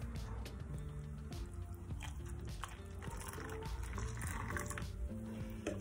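Boiling water is poured into red strawberry gelatin, a steady liquid fill and splash running continuously under a low background hum; close, with no talking.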